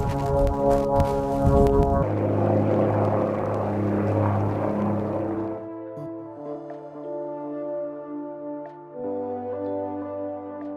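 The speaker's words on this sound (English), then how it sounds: "I hear a plane, but I can't see it." A propeller plane drones overhead in the desert at Little Red Rock near Las Vegas, a steady engine hum with a rougher roaring stretch in the middle, heard alone without any talking.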